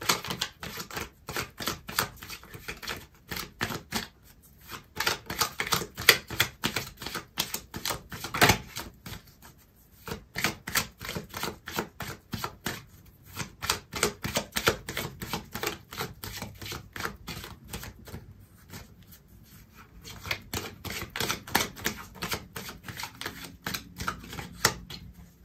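Tarot cards being shuffled during a reading, a long run of rapid, crisp riffling flutters in repeated bursts with short pauses between, close and fairly loud.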